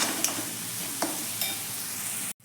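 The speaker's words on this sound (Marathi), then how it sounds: "आलं लसूण हे छान असं यामध्ये एक मिनिटभर असं परतून घेऊयात" Green chilli, coriander and ginger-garlic paste sautéing in a pan for egg masala, a steady close sizzle with a few light stirring scrapes, ending abruptly.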